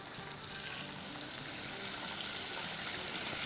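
Garlic and green chillies sautéing in a pan, giving a steady, even sizzling hiss that runs without a break from start to finish at moderate loudness, with no talking.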